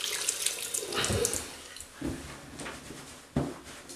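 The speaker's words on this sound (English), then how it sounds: "Rinse your hands." Hands rinse under a running tap at a sink while shaving, water splashing and pattering unevenly with small bursts and a gush near the end, close and soft.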